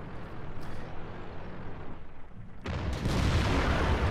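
A tank cannon shot in World of Tanks destroys a T-44, a sudden heavy boom cutting in partway through over a steady rumbling battle background, with the roar sustained afterward.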